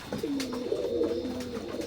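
Teddy pigeons of an imported bloodline cooing steadily up close, a low continuous rolling coo over faint background hiss, no talking.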